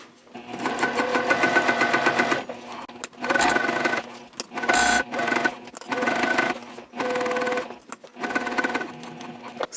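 A sewing machine backstitches and topstitches a sling lining in several loud, close bursts of rapid mechanical whirring, each separated by short pauses.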